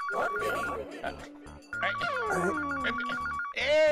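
A phone ringtone chirps in repeated bursts, loud and close, over a busy domestic scene as several people talk and a baby is handed over.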